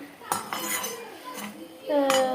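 A metal lid goes onto a pot of fish curry with a few clinks and scrapes of cookware, then a brief ringing clang at the end.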